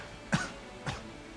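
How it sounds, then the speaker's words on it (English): Two quick, soft coughs with a throaty clearing edge, spaced about half a second apart against quiet background. "I have a bit of a cough today, so forgive me if I clear my throat every now and then."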